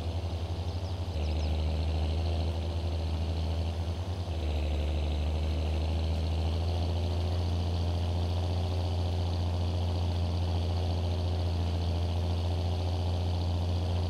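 Tractor engine idling in Farming Simulator 22, a steady low rumble with a constant droning hum that holds evenly throughout, close and loud with no talk over it.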